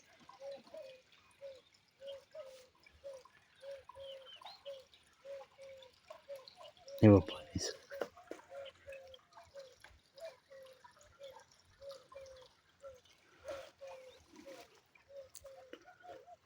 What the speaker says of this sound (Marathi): ऐसे इरीचा झऱ्याचा आवाज कसा येतो